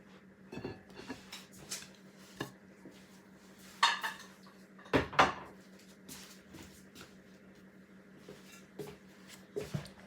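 Dishes and utensils clink and scrape as a Thai spicy salad with glass noodles, squid, pork and mushrooms is spooned onto a plate, with scattered light knocks and two louder clatters in a quiet kitchen, no talking.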